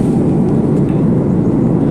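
Steady, loud low roar of a Qatar Airways airliner climbing in flight after passing Dubai, heard from inside the cabin as a constant engine drone with no other sounds.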